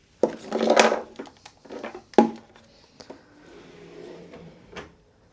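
Desk drawers sliding open and shut in a cruise ship cabin aboard Royal Caribbean's Star of the Seas, giving a few close wooden thumps and rattles with short scraping slides between them, and no talking.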